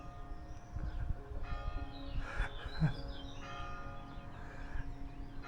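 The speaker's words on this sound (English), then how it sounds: "church bells." Church bells ring in an Italian town with layered, sustained metallic tones that overlap and swell, heard from a moderate distance with faint birdsong around them.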